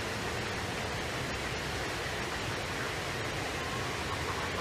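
Waterfall seen from a bridge at sunset, a steady broadband rushing roar, even and unbroken, moderately distant and fairly soft, with no voices over it.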